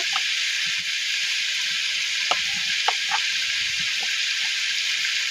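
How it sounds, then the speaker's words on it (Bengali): Boiled chicken frying with garlic and onion paste in a pan, a steady close sizzle with occasional soft stirring knocks and pops throughout. "সেদ্ধ মুরগির মাংস কিন্তু কিছুক্ষণ ভেজে নিচ্ছি"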